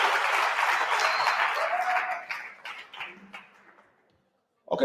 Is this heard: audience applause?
yes